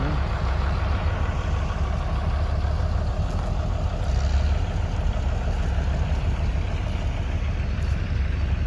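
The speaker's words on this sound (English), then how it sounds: "That thing's running. It's a diesel engine." A diesel engine runs steadily nearby at a Caterpillar show in Edgerton, Wisconsin, a constant low rumbling drone with no breaks and no voices.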